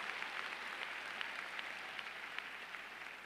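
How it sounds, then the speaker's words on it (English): An audience at a Simmons University commencement claps in a steady, moderate round of applause, a dense wash of hand claps with no talking. "Yes, we can clap for that."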